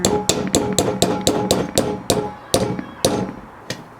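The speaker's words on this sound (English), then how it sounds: "So I'm going to take my nail and my hammer." Hammer striking a nail into a metal can, about a dozen sharp, ringing blows close by, steady at first and then slowing and spacing out toward the end.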